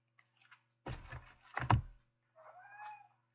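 A house cat gives a short, rising-and-falling meow at moderate distance, following a couple of dull thumps and bumps nearby in an otherwise quiet room.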